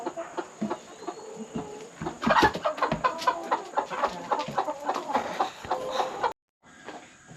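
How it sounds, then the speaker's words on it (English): Several chickens and roosters cluck and squawk nearby in a busy, overlapping chorus at a chicken coop, with a steady hum underneath, then a brief silence at the end. "we're gonna go ahead and let these roosters out"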